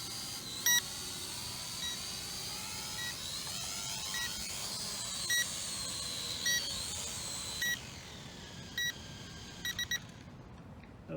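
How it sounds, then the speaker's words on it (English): An Eachine 520S drone sounding short, high electronic beeps, repeated at irregular intervals over a continuous steady whirring hum. "I don't really understand why this thing keeps beeping."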